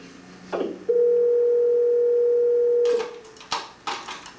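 An answering machine sounds a long steady beep tone of about two seconds after the recorded greeting, followed by a few clicks and brief bumps as the line carries on.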